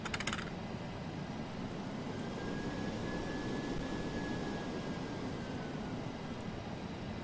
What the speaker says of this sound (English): They don't sound like great engine sounds anyway.